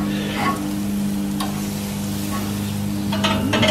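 Chicken kabobs sizzle on a grill in a loud, continuous hiss, with a few sharp clicks and scrapes as tongs flip them, while a steady hum runs underneath.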